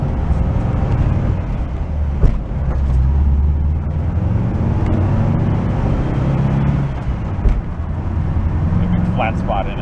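A VW hippie bus with a repaired frame drives steadily through its gears, its engine a continuous low drone with road noise that rises and falls, and someone talks over it now and then.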